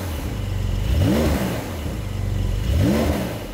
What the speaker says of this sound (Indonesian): suara exhaustnya bukan suara exhaust masa lalu, tetap suara exhaust modern ya, karena ya ini sebuah mesin modern.